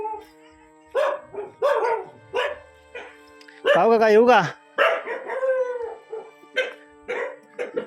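A dog barks and howls in a drawn-out burst between stretches of someone talking nearby, in a village in dense coastal forest in Ratnagiri district.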